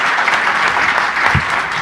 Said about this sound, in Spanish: démosle otro fuerte aplauso a nuestros panelistas